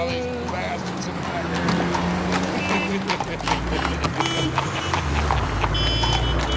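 An upset horse pulling hard clip-clops its hooves in an irregular, fairly close rhythm, mixed with street noise and voices nearby.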